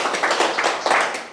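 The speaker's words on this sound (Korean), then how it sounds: "큰 박수로 맞이해 주시고." An audience at a Confucian college lecture in Gyeongnam claps to welcome a professor, giving a short, close burst of applause with no speech.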